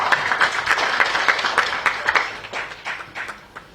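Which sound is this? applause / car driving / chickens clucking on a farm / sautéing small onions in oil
applause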